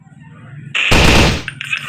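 Shooting video game gunfire: a loud burst of rapid automatic fire erupts partway through after a quieter lead-in, dense and sustained for about half a second before tapering into scattered shots.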